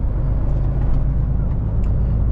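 A loaded truck pulling out of a factory, heard from inside the cab as a loud, steady low engine drone and road rumble with no voices.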